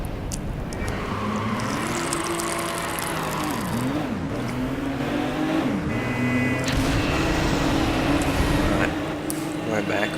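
Racing vehicle engine in Midnight Club 2, a street-racing video game, here a fast bike chasing the Citi Turbo: a steady, loud engine drone whose pitch rises and dips with gear changes, overlaid with game music throughout.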